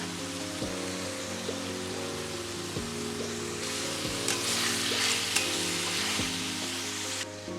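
Egg prawn chowmein noodles with spring onions being stir-fried in a pan: a steady, close sizzle with repeated scraping stirs every second or two, no talking.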